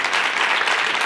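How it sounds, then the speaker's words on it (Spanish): An audience breaks into applause for a girl named Lucía, a dense, loud burst of many hands clapping together, close and continuous for the whole brief moment. "Vamos a pedir yo pido un aplauso para Lucía."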